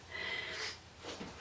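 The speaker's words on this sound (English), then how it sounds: "I have to take a break now and go and blow my nose." A person blows their nose in a short, breathy honk lasting about a second, followed by a quieter sniff, close to the ear with no talking.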